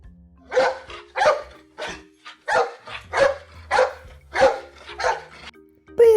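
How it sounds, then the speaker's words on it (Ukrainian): A dog barks repeatedly, about ten sharp, fairly close barks in a steady rhythm with short gaps between them. "До нас у гості прийшов пес або собака."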